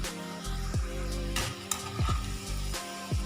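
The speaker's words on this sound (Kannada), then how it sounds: "ಹಾಗಾಗಿ ನೀವು ಲೋ ಫ್ಲೇಮಲ್ಲಿ ಇಟ್ಟು ಇದನ್ನು ಫ್ರೈ ಮಾಡ್ಕೊಳ್ಳಿ" Badusha (saat) dough frying in oil on a low flame, a steady fine sizzle and bubbling with a few light clinks of a utensil against the pan, under a steady tonal hum.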